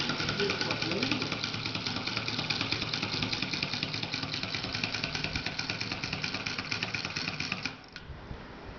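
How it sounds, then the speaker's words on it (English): A double acting solenoid motor with a flywheel runs while driving a generator, giving a rapid, steady mechanical clatter that ticks continuously before dropping off abruptly near the end. "So this is all about the solenoid engine, and it works like this"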